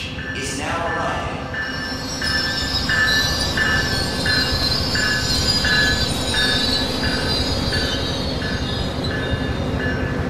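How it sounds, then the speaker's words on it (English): A northbound Tri-Rail train rolls into a Florida station, wheels squealing in a repeating high whine over a heavy rumble and rattle of rail cars. "Northbound train, boarding on track 1, 2, West Palm Beach is now arriving."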